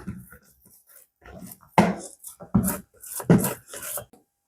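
Bun dough being kneaded by hand with oil, close wet squelches and slaps coming in irregular bursts, growing louder and more frequent.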